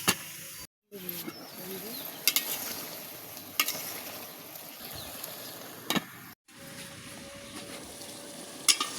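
Bottle gourd sautéing in a pan with chili, coriander and turmeric powder for a fish curry, giving a steady low sizzle and scraping stir, with two brief drop-outs.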